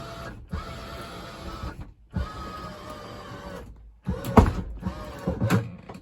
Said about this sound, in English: you got your slide room switch here, so you have in and out. We'll press and hold out.